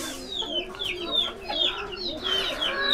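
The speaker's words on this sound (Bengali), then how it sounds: "এখানে যে আমার সিল্কি মুরগিগুলো আছে এইগুলোরে দিয়ে দিলাম দেশি।" Silkie and local country hens clucking together in a backyard poultry flock, with overlapping soft clucks and short calls continuing steadily throughout, close by.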